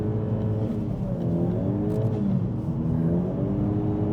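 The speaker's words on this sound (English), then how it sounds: "We've got a ton of clutch slip." A car engine revs hard during a launch with the clutch slipping, giving a steady loud drone whose pitch rises and wavers without the car pulling away, on a homemade exhaust system.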